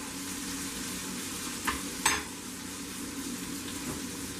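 Melted butter sizzles steadily in a pan as a sirloin steak is basted, a soft continuous frying hiss with a couple of brief spoon scrapes, fairly quiet and without talk.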